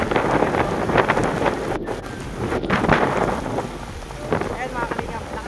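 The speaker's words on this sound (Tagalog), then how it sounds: "Ayan mga kalingap, lakas ng ulan." Heavy typhoon rain pours down with wind rushing across the microphone in a steady, dense wash at a town centre, with a few brief knocks and a faint voice in the background.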